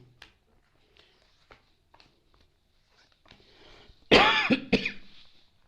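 A loud, harsh cough bursts out near the end, followed by a second shorter cough, after a few quiet clicks and rustles.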